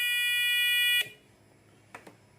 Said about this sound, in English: The buzzer have on, the motor is turning off.